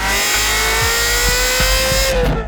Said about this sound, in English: I have a Capristo 3 on it, and it just screams